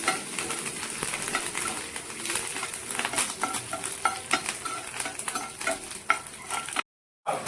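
Curry leaves and urad dal tempering fry in hot oil in a pan, loud and close, with a dense crackling sizzle and sharp pops and spatters throughout before a brief cutoff.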